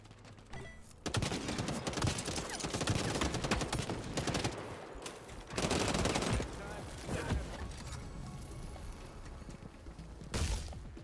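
Rapid bursts of weapon fire ring out in the video game Hawked, with dense automatic volleys near 1 to 5 seconds and again around 6 seconds, plus a short final burst, mixed with game sounds.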